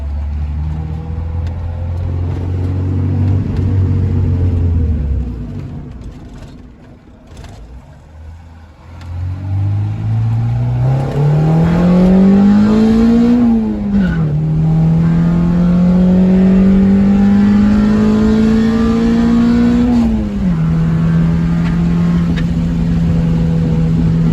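An Acura Integra with a swapped B20 VTEC engine accelerates hard, its loud close engine note dipping briefly, then climbing through a rising rev, easing and climbing again before settling at a steady drone.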